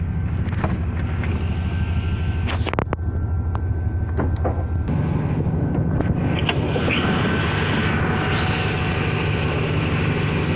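A 1995 Chevy K1500 pickup truck's engine idles with a steady low exhaust rumble, shifting in tone partway through as it keeps running close by.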